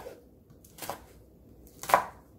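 A knife slices a chili pepper diagonally on a cutting board, giving three distinct chopping taps at a steady interval, close and clear, with the last cut sounding slightly sharper. No one speaks.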